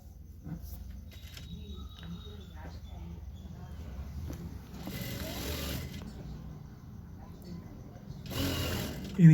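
Sewing machine stitching the piped bottom hem of a pair of ladies' pants, with a steady mechanical whir running throughout and a couple of louder bursts near the end; someone talks over it.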